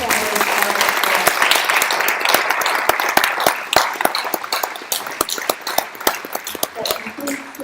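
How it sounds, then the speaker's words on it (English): Audience at a school election candidate forum applauding in a gym, dense sustained clapping with sharp individual claps standing out near the mic, gradually thinning toward the end. "Let's give our 21 team candidates a round of applause."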